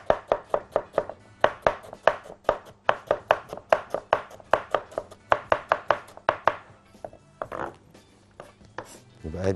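Knife finely chopping onion on a board in rapid, steady bursts of close, crisp thuds, pausing briefly before a few slower cuts near the end, with no voices.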